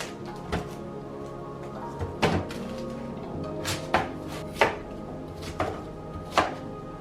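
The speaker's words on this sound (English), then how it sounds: "So I need to cut up half of this onion, some garlic, and puree it" A knife chops an onion on a cutting board in irregular, fairly loud thunks, roughly eight strikes spaced a second or so apart, with no talking.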